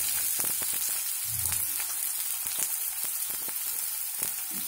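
Chopped onion hitting hot oil in a mustard seed tempering for a round beans curry sizzles and crackles steadily and close throughout, with a few light stirring knocks.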